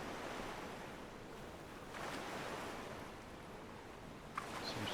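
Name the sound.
ocean waves in the video game Bannerlord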